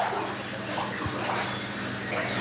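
Floodwater pours steadily into a flooded house with cellars filled to the floor, a continuous broadband rushing wash that stays close and even throughout with no voices.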